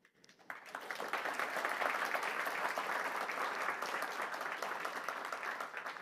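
Conference audience applause swells from quiet to a sustained, even patter of many hands clapping, steady and moderately distant after a talk at DConf '23.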